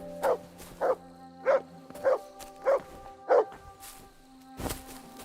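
A dog barking in Kingdom Come Deliverance II, six evenly spaced single barks at moderate distance over a low hum, then a muffled knock.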